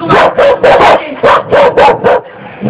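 A run of about eight loud, close dog barks in quick bursts, with a brief pause partway through and a softer whimper at the end.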